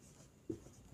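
A pen writes on a chart during a Hindi grammar lesson. A single quiet scratching stroke sounds about halfway through, over a faint, steady room background.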